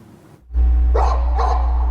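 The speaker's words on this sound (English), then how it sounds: "Barks and howls echoing across this Essex town neighborhood on Tuesday afternoon" Dogs barking and howling across a neighborhood in an Essex town on a Tuesday afternoon, with a low rumble starting partway through and two sharp, fairly close barks rising above it.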